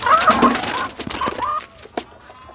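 A chicken clucking close by in short, uneven bursts, loud at first, then trailing into sparse single clucks with gaps between.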